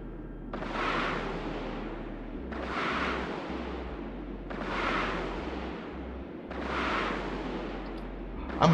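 Rage rockets fire in EVE Online during low-security solo PvP combat, four rumbling launch bursts spaced about two seconds apart, each swelling and fading over a steady low engine hum.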